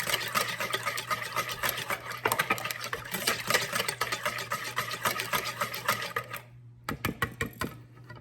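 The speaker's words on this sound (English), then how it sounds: "So now I'm gonna mix these ingredients up." Dry quick bread ingredients for a pear and walnut loaf stirred together in a bowl, a busy run of scraping, tapping clatter close up, steady for several seconds before a few louder knocks near the end.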